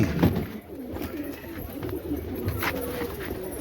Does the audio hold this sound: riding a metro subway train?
no